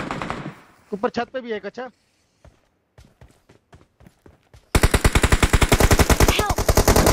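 Game gunfire rings out in a mobile battle-royale firefight, starting with a few sharp single shots and then a long rapid automatic burst. Players talk briefly over the early shots.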